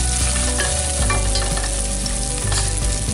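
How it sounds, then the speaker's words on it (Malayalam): Green chilli, ginger and garlic fry in a pan for chilli kappa, a loud, dense, continuous sizzle heard close up. Stirring clatter breaks through now and then, and no voices are present. "ഈ ഗ്രീൻ ചില്ലിയും ജിഞ്ചറും ഗാർലിക്കും മാത്രം നന്നായിട്ട് മൂത്താൽ മതി."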